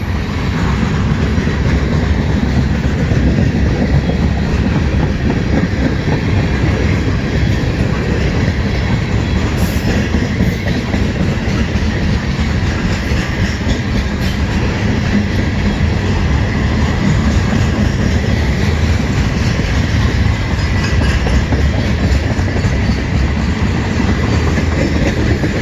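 A CN M383 westbound freight train rolls past in New Haven, a loud, unbroken rumble with rapid clickety-clack from the wheels that holds for the whole stretch, with no talking.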